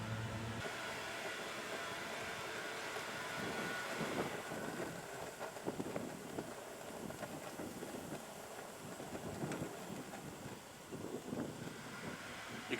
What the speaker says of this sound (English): You can see it's a little bit windy,